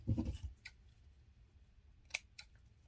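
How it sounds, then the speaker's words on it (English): Scissors snip through plastic drinking straws for a Valentine's Day craft banner, a couple of sharp crisp clicks after a soft handling rustle, close and quiet. "And now I'm going to just cut this"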